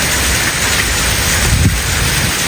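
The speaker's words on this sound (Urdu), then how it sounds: "اتنی طوفانی بارش ہے" Torrential rainstorm in Islamabad, a loud, dense, steady roar of heavy rain with gusting wind buffeting the microphone and no break throughout.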